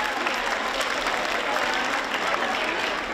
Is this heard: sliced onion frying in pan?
no